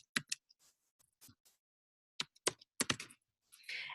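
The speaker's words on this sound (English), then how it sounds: "I'm going to type that in." Quiet typing on a computer keyboard, with scattered key clicks in short bursts and pauses, followed by a brief rustle at the end.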